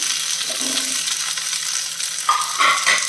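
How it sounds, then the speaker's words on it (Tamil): Three medium-sized chopped tomatoes go into a pan of frying onions, giving a steady sizzle with brief stirring scrapes and sharper crackles near the end. "மூணு மீடியம் சைஸ் தக்காளி நான் கட் பண்ணி வச்சுருக்கிறேன் அதை சேர்த்துட்றேன்"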